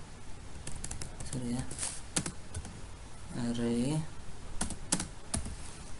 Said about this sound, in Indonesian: Lalu ketikkan isi array.